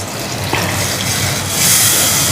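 A glass of water is poured into sizzling masala in a pan for a prawn coconut milk gravy, giving a steady close hiss and gush that swells toward the end.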